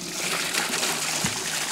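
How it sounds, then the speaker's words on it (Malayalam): Water pours into a glass aquarium as a steady close splashing rush with light sloshing, alone without talk. "അക്വേറിയം കൊണ്ടുവന്ന് ഇവിടെ നമ്മൾ സെറ്റ് ചെയ്ത് വെള്ളം ഒഴിക്കാം"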